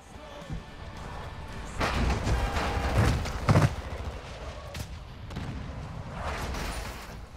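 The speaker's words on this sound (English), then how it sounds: "Friendly mortar strike inbound." Video game friendly mortar strike: a run of heavy, booming explosive thuds and broadband blasts clustered through the middle, loudest in a sharp pair of hits, over a steady rumbling battlefield bed with faint voice-like murmurs.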